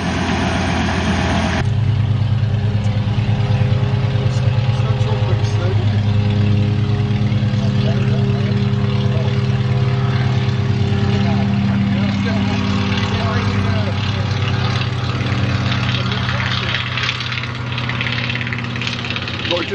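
A propeller airplane flying a circuit gives a steady, droning engine hum that holds constant and fairly loud throughout, with no change in pitch or distance.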